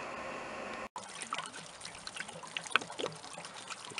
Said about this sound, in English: See, the water is coming out,